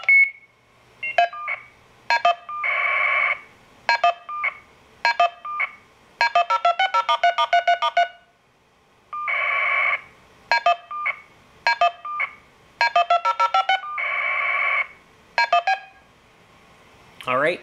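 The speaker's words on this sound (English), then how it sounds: "You'll notice that it finished with a B DTMF digit." A Nortel 350 ADSI telephone emits rapid sequences of DTMF digit beeps and longer data tone bursts in repeating patterns, loud and close, for well over fifteen seconds.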